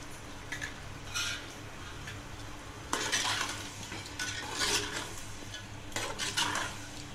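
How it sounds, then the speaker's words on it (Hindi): Chicken with salt being stirred and browned in a pot, with repeated bursts of spoon scraping against metal over a faint sizzle, fairly close and with no talking. "अब हम इसमें नमक ऐड करके इसे अच्छे से भून लेंगे।"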